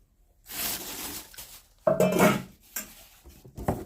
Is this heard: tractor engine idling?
no